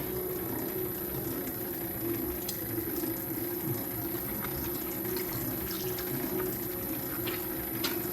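Water trickles steadily into biga bread dough against a constant low background hum, with no voices.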